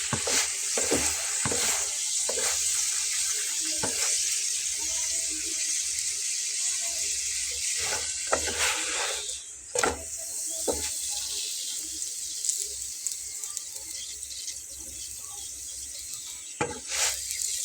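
A potato-stuffed paratha fries in about a tablespoon of oil in a pan, giving a steady sizzle under scattered scraping and clinking of a utensil, fairly close, with no speech.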